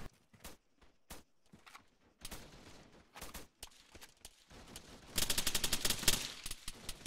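Gunfire in the military game Arma, scattered single shots at first, then a rapid burst of automatic fire near the end, loud and close against a rustling background.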